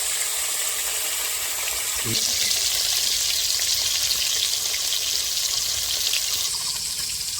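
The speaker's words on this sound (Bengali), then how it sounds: "আমি মাছ ভাজতে দিয়েছি" Fish fries in hot oil with a continuous loud, hissing sizzle and crackle that barely changes over several seconds, heard close and alone.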